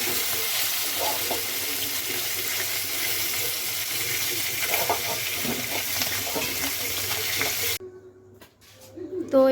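Ridge gourd and potato pieces hiss and crackle in hot oil, a steady broad sizzle that runs loud for most of the time before abruptly dropping off near the end.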